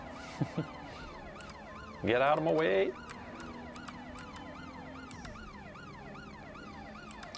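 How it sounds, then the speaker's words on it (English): A wailing police siren in a video game sweeps up and down throughout, with a voice briefly shouting over it partway through. "I'm gonna toggle the sirens."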